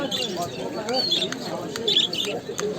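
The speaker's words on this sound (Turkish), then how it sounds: "Kuşlar güzel" Many small birds chirp and tweet in short bursts amid a busy crowd at an outdoor songbird market in Edirnekapı, Istanbul, with people talking nearby throughout.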